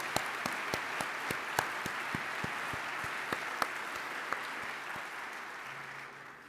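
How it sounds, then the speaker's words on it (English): Audience applause at a medical simulation conference plenary session, a steady wash of clapping from a large hall with a few sharper individual claps standing out, continuing for several seconds without speech. "I'd like to really give him a round of applause"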